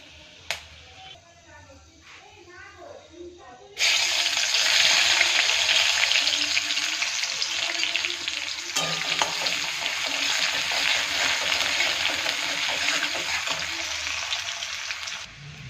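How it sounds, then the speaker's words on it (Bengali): Whole garam masala and bay leaves sizzling in hot oil as a tempering, a quiet patch giving way to a loud, steady hiss from about four seconds on that holds through to the end. "গোটা গরম মশলা, তেজপাতা ফোড়নে দিয়ে দিলাম"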